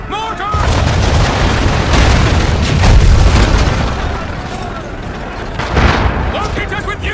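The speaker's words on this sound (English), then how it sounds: "Mortar!" Mortar explosions boom during a naval battle in Assassin's Creed III Remastered, a loud continuous barrage of blasts, splashes and rumble with shouted voices over the top of the din.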